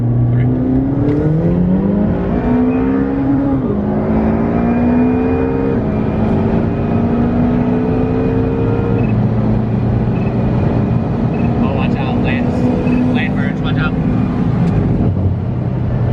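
A Lamborghini and a stock McLaren, one fitted with downpipes, accelerate hard side by side in a third-gear roll race, engines rising in pitch through a long, loud pull with upshifts, the roar steady and close throughout.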